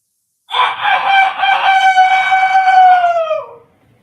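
A single loud, close rooster crow, drawn out for about three seconds and falling in pitch at the end, in an otherwise quiet setting.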